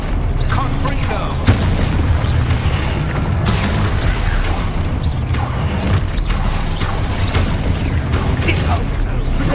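Confringo blasting-spell explosions go off in the Hogwarts Legacy video game, loud booming bursts and crashes packed into a continuous run of combat noise with voices shouting over them.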